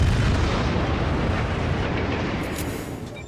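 The Kongou battleship's main guns fire in World of Warships, a single loud booming salvo that rolls out into a long fading rumble.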